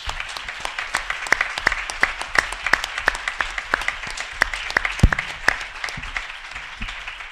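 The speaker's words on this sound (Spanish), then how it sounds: "un fuerte aplauso para todos vosotros" An audience at a public conference claps, producing loose, sparse applause of individual sharp hand claps that continue steadily for several seconds without fading.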